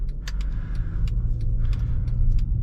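Mercedes W204 C300 heard from inside while driving and turning, a low steady engine and road rumble with light clicks and rattles, no talking.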